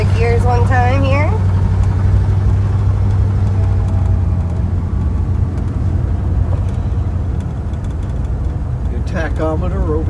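A 1956 Ford Thunderbird with a 312ci V8 runs through its gears, giving a steady low engine drone throughout, with people talking over it at the start and again at the end.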